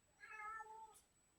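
A single drawn-out meow from a big pet cat, close and clear, rising then falling over about a second in an otherwise quiet room.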